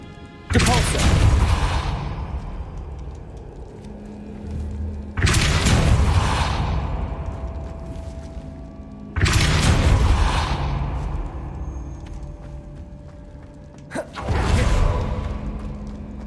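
Repeated spell blasts in the video game Hogwarts Legacy: three loud whooshing booms with a thudding low end, each decaying over a few seconds, then a sharper fourth burst, no talk.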